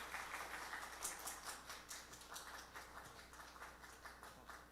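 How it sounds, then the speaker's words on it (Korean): Applause from a church youth congregation at a certificate presentation: a fairly faint, steady patter of many hands clapping, with no voices over it. "박수로 부탁드리겠습니다."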